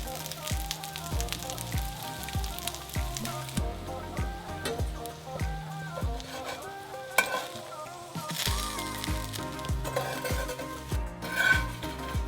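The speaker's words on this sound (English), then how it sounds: "And now cook the sticks on the pan until both sides are crispy." Cornflake-coated French toast sticks fry in melted butter in a pan with a steady, crackling sizzle. Rhythmic background music plays loudly over the frying throughout.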